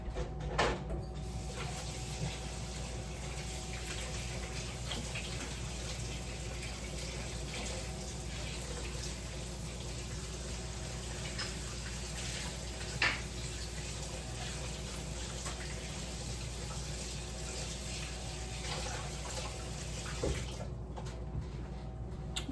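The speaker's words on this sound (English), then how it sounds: "I'm gonna go wash my hands really quick" Hands washed under a running kitchen tap, a steady water rush lasting throughout at moderate level, with a few brief clunks from the basin or handles near the end and no talk.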